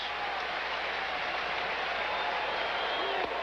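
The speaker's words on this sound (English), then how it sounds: "The crowd really into it" A baseball stadium crowd at an Astros vs Phillies game in 1994 gives a steady, broad roar of cheering and applause. The noise runs throughout at a moderate level, with a faint voice mixed into the crowd noise.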